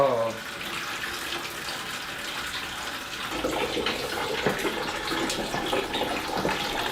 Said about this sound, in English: there it is, it's draining in the bucket